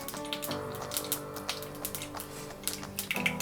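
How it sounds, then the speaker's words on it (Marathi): Rapid irregular pops and crackles of mustard seeds spitting in hot oil, close up over a faint steady hum, with no voices. "ही मोहरी छान तडतडू द्यायची आहे"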